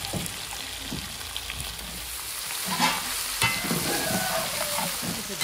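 Chicken with onions and spices sizzles and crackles steadily in a pan, with occasional stirring scrapes and clatters, close and continuous with no talking.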